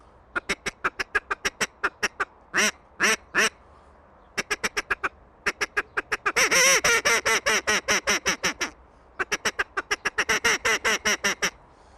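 A duck call imitating a feeding duck, blown in fast bursts of short quacking notes, with sharper clusters and a long rapid run in the middle, close and clear with no talking.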